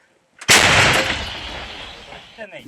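A single heavy artillery gun blast booms close by on the front line, then rolls off in a long rumbling decay, with a voice faintly heard at the very end.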